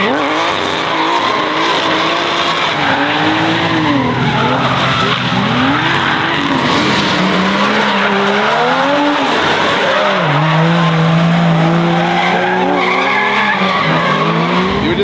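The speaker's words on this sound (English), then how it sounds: "We are at our friend's house drifting in his professional cars." Professional drift cars at a private compound paddock roar and skid continuously, with loud engine revving, shifting pitch and sustained tire squeal close by for the whole stretch, no talk.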